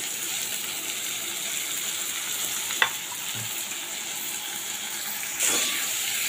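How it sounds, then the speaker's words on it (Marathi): Finely chopped onion and curry leaves sauté in a pan with a continuous quiet sizzle and hiss, a brief metallic clink midway and a slightly louder burst of frying near the end. "कांदा आपण आता चांगला परतून घेऊया"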